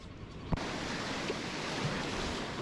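Ocean surf at a beach with kayaks launching into low waves, a steady broad wash of breaking water and wind noise, loud and continuous with one brief knock near the start.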